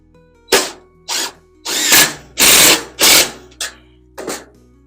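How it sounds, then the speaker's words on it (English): A power drill whirs in about seven short bursts of varying length, close and loud, with brief pauses between each run, pre-drilling and driving screws into Hardie plank fiber-cement siding. "I have to pre-drill because it's hardy plank and I don't want to fight with it"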